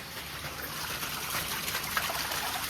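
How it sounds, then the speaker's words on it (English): Water drains out of the bottom drain of a fish fry pond as a steady, hissing trickle and gush, fairly quiet and continuous, with no voices. "So just emptying all the bottom drain now."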